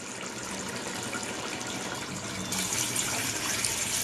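Steady rush of water pouring into a cooking pot of rice, growing slightly louder and fuller partway through, with no voices.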